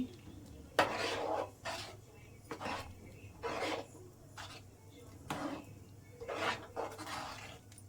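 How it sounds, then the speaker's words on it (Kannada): Metal spoon scraping and stirring avarekalu upma (field bean upma) in a pan over low to medium flame, in repeated close scraping strokes of about a second each, with a steady low hum underneath. "ಹಾಗೆ ತಿರುಗಿಸ್ತಾ ಇರಬೇಕು 1-2 ನಿಮಿಷ"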